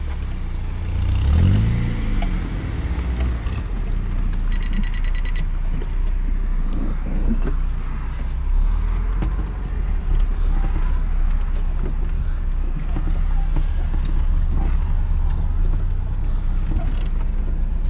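A Lada Granta with an automatic gearbox drives through snowy fields, its engine a steady low drone that runs throughout with brief revs near the start. A voice speaks faintly beneath it.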